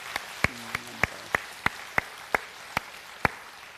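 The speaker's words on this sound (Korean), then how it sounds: "우리 모두를 위해서 박수로 한번 축복하겠습니다." Sharp, separate claps ring out in a church during a Sunday morning service. They come at a steady, even pace, about a dozen hand claps over a quiet room, sounding more like a few people than full applause.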